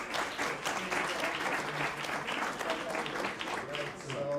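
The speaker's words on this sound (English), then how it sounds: "Round of applause for class." Audience applauding the dental class at a university white coat ceremony, steady dense clapping filling the room for several seconds, with voices mixed in underneath.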